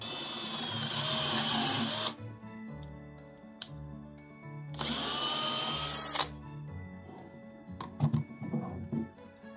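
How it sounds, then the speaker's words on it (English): A power drill runs in two sustained bursts, boring a pocket hole through a Kreg 520 Pro jig, each whining run ending abruptly, followed by scattered clicks and clinks of handling. "So you can see there that I drilled my pocket hole."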